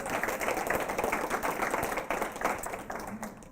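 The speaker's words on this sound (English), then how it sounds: "give them a big round of applause" Audience applause at a poetry reading in a library hall, a dense, steady patter of many hands clapping at fairly close range, holding strong throughout before easing slightly at the end.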